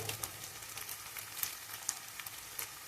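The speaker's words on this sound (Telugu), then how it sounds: "పచ్చివాసన పోయే వరకు దీన్ని వేయించుకోవాలి." Ginger garlic paste frying in a pan for a chicken curry, giving a steady, moderately quiet sizzle with scattered crackles and small pops throughout, and no voices.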